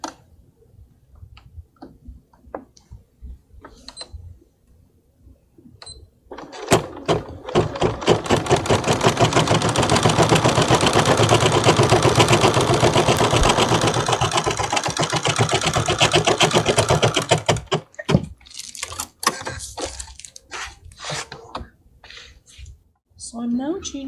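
A Bernina embroidery machine stitches an applique at close range, a fast, even mechanical chatter that runs for about eleven seconds and then stops, with scattered clicks and handling noises before and after.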